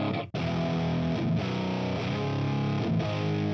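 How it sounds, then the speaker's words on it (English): Electric guitar riff played through an amp simulator plugin with the tone boosted, heavily distorted and sustained with chords ringing continuously and short breaks, loud and alone. "This is like a guy outside your house playing a riff. See if I can make it a little bit more usable by boosting the tone."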